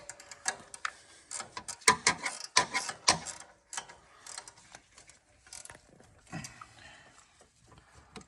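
Ratcheting wrench tightening bolts during a turbo install on a Ford 6.0 Powerstroke diesel engine, a rapid run of sharp metallic clicks in several quick bursts, close and fairly loud, with no talking.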